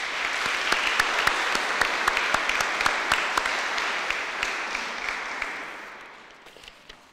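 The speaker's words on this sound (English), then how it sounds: "Please join me in giving these people all a round of applause." A crowd at a distance-learning graduation ceremony applauds the teachers and supervisors with steady clapping, a broad wash of hands with a few sharp close claps standing out, tapering off toward the end.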